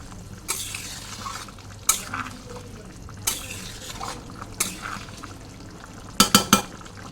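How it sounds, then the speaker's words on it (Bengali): A spoon stirs jackfruit curry finished with a little ghee in a pan, heard as a soft steady sizzle broken by a few scraping strokes and a quick cluster of metallic clinks near the end. "এবার নাড়াচাড়া করে নামিয়ে নেব।"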